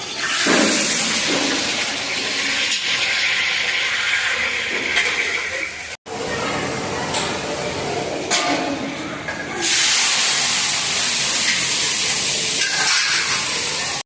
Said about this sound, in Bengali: ডিমগুলো একটু ভেজে নিচ্ছি।